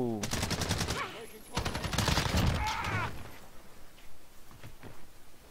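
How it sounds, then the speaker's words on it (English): Teammate's automatic gunfire in Call of Duty: Modern Warfare, a loud rapid burst at the start, then a second dense burst, fading to quieter distant shots with a voice briefly heard. "I think that was my teammate that shot."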